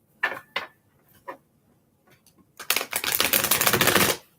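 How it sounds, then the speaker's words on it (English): A Gilded Tarot deck gets a couple of shuffles: a few light taps and clicks, then a dense, loud burst of riffling cards close to the microphone lasting under two seconds. "Give it a couple good shuffles."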